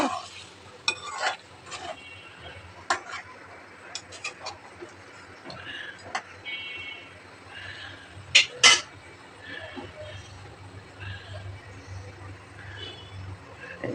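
Chicken and potato curry being stirred in a pot, with a spoon scraping and clinking against the metal in scattered knocks over a low simmering bed, a few louder clanks near the middle.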